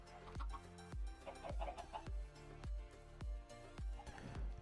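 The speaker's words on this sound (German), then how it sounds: "Hühner?" Chickens in the video game Minecraft cluck in short bursts over a repeating rhythmic pattern of low thumping game sounds.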